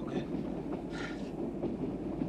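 A train rumbles steadily along the tracks, a low continuous roar with faint rattling, no voices.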